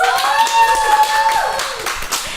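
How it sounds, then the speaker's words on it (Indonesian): People at an Indonesian internship talk event clap their hands, scattered claps over a sustained tonal hum or music bed, with the clapping fairly close and continuing for a couple of seconds. "tepuk tangan lagi guys"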